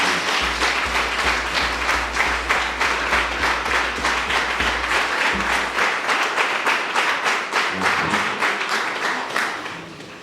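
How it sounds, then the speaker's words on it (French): A church congregation at a Sunday Easter-season Mass claps loudly and continuously for about ten seconds, a dense crowd applause with a rhythmic pulse and a low drum beat underneath. "Acclamons très fort Jésus."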